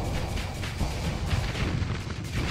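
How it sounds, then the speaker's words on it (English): A thermal pulse cannon fires on a frigate in a video game, giving dense, rumbling, repeated blasts that blur into a continuous loud roar across the short span, with no talk. "So this is my thermal pulse cannon."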